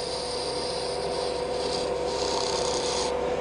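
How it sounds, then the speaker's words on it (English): A long bevel gouge cuts into spinning wood on a woodturning lathe, a steady, loud rasping scrape that continues unbroken for a few seconds close to the mic. "I've picked up a longer bevel gouge just to give me access through this little shape in here."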